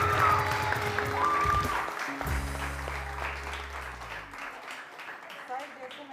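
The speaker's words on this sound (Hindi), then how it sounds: "बहुत सारी तालियां बजाइए" Studio audience applause on a TV morning show rises under tonal music and voices, then fades gradually as the clapping thins out.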